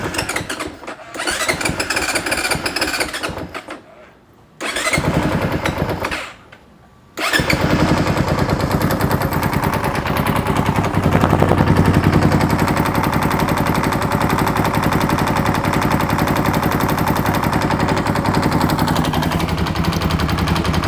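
Honda CRF 450 dirt bike engine with a rebuilt fuel pump, cranking in two short bursts, then firing up and settling into a loud, steady, close-up rapid idle with no talk over it.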